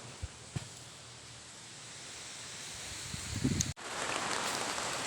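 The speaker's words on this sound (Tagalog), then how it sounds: "Yan, ito na, ulan na." Steady rain hisses on surfaces, a continuous dense patter that grows slightly heavier, with a couple of faint knocks early on.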